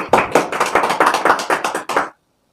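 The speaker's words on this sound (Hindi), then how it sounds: "बजाइए ताली।" Several people clap in a quick, dense burst for a correct answer in a classroom quiz game, loud and close, lasting about two seconds before stopping abruptly into silence.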